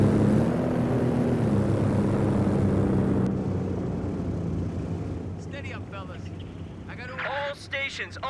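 Propeller aircraft passing overhead for an airdrop in the Company of Heroes 2 war game, a steady loud engine drone that fades gradually, while radio-style voices come in near the end.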